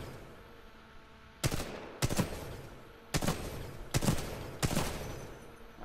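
Full-auto assault rifle fire in Titanfall 2, heard as five loud, short bursts spaced about a second apart against a quiet background hum.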